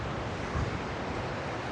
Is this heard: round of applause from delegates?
no